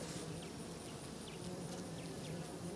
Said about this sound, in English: I don't know if y'all can see those bees working on that sugar.